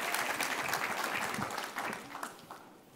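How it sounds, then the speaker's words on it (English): A conference audience at the Food Tank Summit in Atlanta on healthier school food claps for a panel, a dense burst of applause that fades out over a few seconds. "Y'all can clap."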